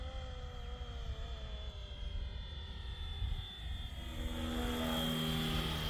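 A Flywing Bell 222 RC model helicopter hovers and flies nearby, its electric motor whine and rotor hum holding a steady tone that shifts in pitch and swells slightly louder toward the end.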